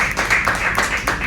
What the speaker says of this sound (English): well, y'all can clap for that.